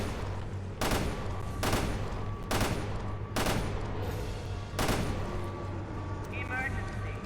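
Gunfire in the video game Resident Evil: Revelations 2 rings out in five loud, evenly spaced bursts over a constant low game drone, with a faint electronic warble near the end.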